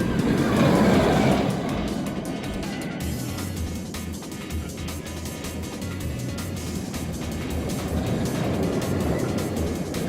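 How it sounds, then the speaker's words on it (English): The Raging Bull roller coaster train at Six Flags Great America pulls out of the station, a loud rush and rumble at first that gives way to steady clattering track noise with rhythmic clicks, no talk. "This train is leaving the station."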